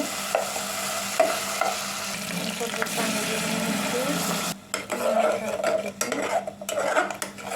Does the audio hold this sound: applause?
no